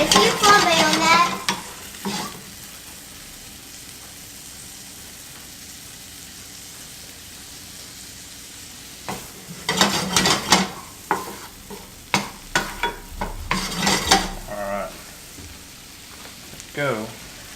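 Shallots sizzle steadily in a pan, with two louder bursts of stirring and clattering against a constant frying hiss; a voice talks briefly at the start.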